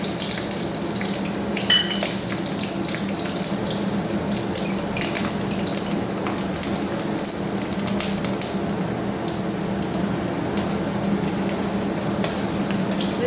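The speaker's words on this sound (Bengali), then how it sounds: "তার সঙ্গে আমি 2টো কাঁচা লঙ্কা ভাজবো।" Two green chillies fry in hot oil in a kitchen pan, making a continuous even hiss and crackle that stays close and steady throughout, with no voices.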